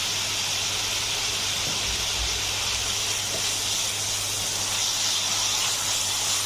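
Onion, green chilies and other filling ingredients for stuffed pointed gourd frying in a pan, a steady broad sizzle and hiss that runs unbroken and fairly loud throughout, with no talking.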